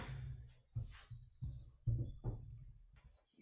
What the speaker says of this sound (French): Je vais revenir sur mes petits oiseaux